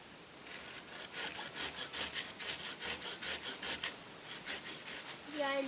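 A hand saw cuts through a wood branch outdoors, with about a dozen rhythmic back-and-forth rasping strokes, close and steady, ending with a brief voice.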